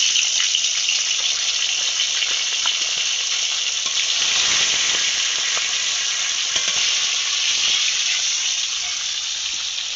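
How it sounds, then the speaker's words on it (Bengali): Fish fries in hot oil in a wok, giving a loud, close, unbroken hiss and sizzle that holds steady for the whole stretch, with a few faint crackles. "আমি এখন মাছটা ভেজে নেব। এদিকে কড়াই তেল গরম হয়ে গেছে, আমি একে একে মাছগুলো ভেজে নেব।"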